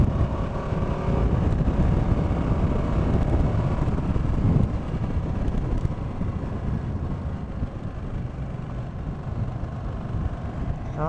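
Heavy wind buffets the microphone while riding a 2016 Ducati 959 Panigale motorcycle, a constant roaring rumble throughout, loud and unbroken, with no voices.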